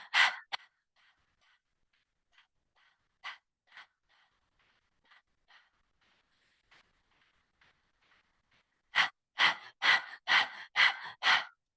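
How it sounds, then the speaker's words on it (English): A person does yoga breathing. Faint, quick, rhythmic breaths pulse through the middle stretch, and then a burst of about six loud, sharp, evenly spaced exhalations comes close up at the end. "So 10 seconds of panting like a dog, and then we're going to move to full breath of fire."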